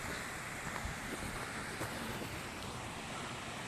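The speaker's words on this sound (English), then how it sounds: "you can totally hear the creek from the trail junction" A creek near the trail at Grizzly Falls in the Trinity Alps rushes steadily, a soft, continuous broadband wash of flowing water with no voices.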